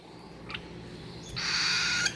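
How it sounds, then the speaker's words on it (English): A baby cockatiel being hand-fed gives a raspy, hissing begging call that swells suddenly after a couple of faint chirps, close and insistent. "That's the sound he makes with his parents feeding him."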